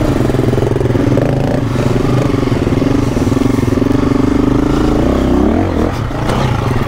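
A 2024 KTM dirt bike engine runs loud and close, a sustained rough rev with rising pitch that dips and surges again near the end, alone without talk.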